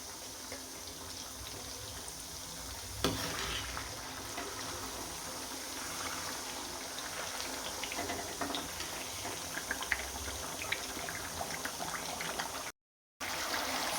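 Chana and moong dal frying in hot oil on a high flame, a steady soft bubbling hiss that carries on evenly, with one brief clatter near the start.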